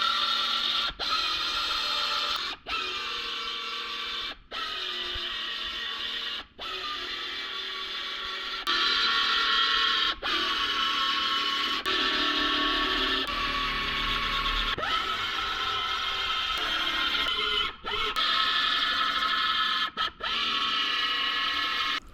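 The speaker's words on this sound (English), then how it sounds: "Then I'll start to remove the spot welds, making sure not to go past the tape or marked line." A drill cutting out spot welds on a car body panel during sectioning repair, a loud, sustained whirring grind broken by short pauses as the bit moves from weld to weld, with no talking.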